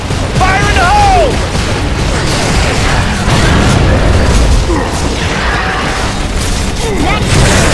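A thrown grenade explodes amid Gears of War 3 combat, with a loud, dense booming burst over constant battle noise and rumble, while voices shout and talk through the action.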